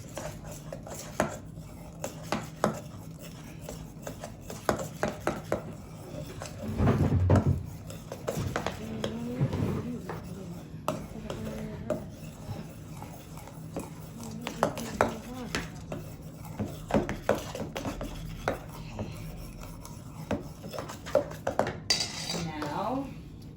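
Brownie batter with vanilla and milk being mixed in a bowl, a steady run of close clinks and scrapes of a utensil against the dish with rhythmic stirring strokes, no speech.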